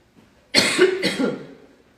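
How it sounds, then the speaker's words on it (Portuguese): A person coughs in two harsh bursts close to the microphone, a cough put down to reflux, with quiet room sound before and after. "Só tosse. É refluxo, né?"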